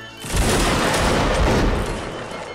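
A line of soldiers fires a massed musket volley in Mount and Blade Warband Napoleonic Wars, a loud, dense roaring crackle of many shots merging into one sustained blast that rumbles and slowly fades.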